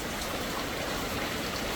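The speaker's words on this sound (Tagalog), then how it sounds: "Ayan, umpisa na naman guys ng ulan." Rain falls steadily during Typhoon Kristine, a dense even hiss of drops on surfaces, moderately loud and unbroken, with no talk.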